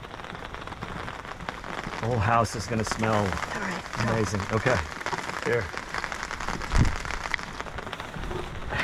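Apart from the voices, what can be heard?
rain falling outdoors in a garden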